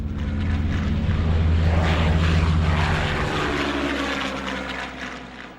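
German and Italian military propeller aircraft of the Spanish Civil War era drone overhead, a loud, steady engine roar with a deep rumble that slowly fades toward the end, with no voices.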